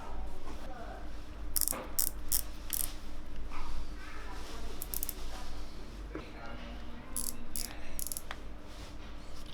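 Clicking drag mechanism on a baitcaster reel being tightened during servicing: light, irregular ratchet clicks, close to the microphone, over a steady low hum.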